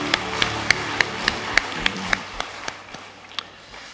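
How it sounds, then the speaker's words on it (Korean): Scattered claps from a small church congregation during a worship service, a dozen or so distinct sharp hits spaced unevenly, fading out toward the end. "우리 감사의 박수들 하겠습니다."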